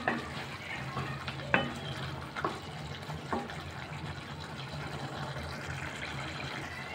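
Drumstick kara kuzhambu curry being stirred in a pot over a low flame, with soft scraping and a few sharp clinks of a spoon against metal over a low, steady cooking hiss.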